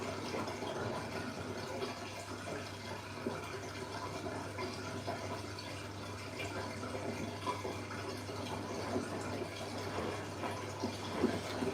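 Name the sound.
Siemens washing machine drain water running into sink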